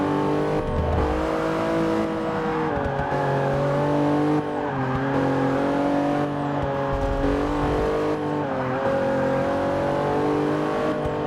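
Porsche race car engine in Forza 6 holds a loud, steady drone, its pitch climbing with each upshift and dropping sharply in several places through about eleven seconds, with brief tire squeal and no talk.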